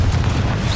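Confringo blasting spell explosions from Hogwarts Legacy, a dense, continuous low booming rumble with crackling bursts, loud and sustained without a break.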